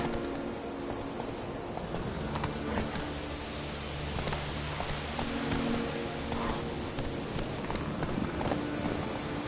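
A horse galloping in The Witcher 3 on PS4, with rapid, rhythmic hoofbeats close and steady under a constant ambient wash throughout.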